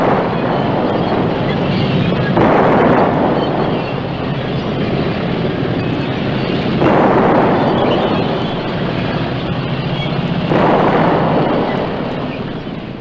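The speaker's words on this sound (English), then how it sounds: "And those mighty powerful guns they're firing." Heavy guns firing in a battle against dug-in Japanese positions, with Matilda tanks advancing: a dense, continuous roar of gunfire and blasts, loud and close, swelling in repeated waves every few seconds.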